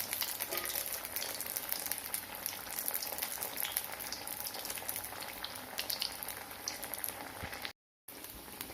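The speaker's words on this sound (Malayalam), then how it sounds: "എന്നിട്ട് നമുക്കത് എണ്ണയിലിടാം. ഹൈ ഫ്ലെയിമിലാവുമ്പോൾ നമ്മളിടുന്നു." A semolina and potato tea-time snack fries in hot oil over a high then medium flame, giving a steady, dense sizzle and crackle that continues throughout with only a brief gap near the end.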